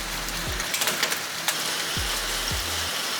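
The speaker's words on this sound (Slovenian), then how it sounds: "Toča je." Hail falling outdoors, a dense continuous hiss of pellets striking surfaces, with a few sharper clatters standing out over the steady wash, no voices.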